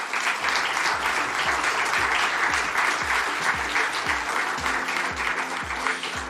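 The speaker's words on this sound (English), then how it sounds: "let us welcome them with a warm applause" A conference audience applauds as speakers are welcomed onto the stage, warm, continuous clapping that holds steady throughout, full and close with no voices over it.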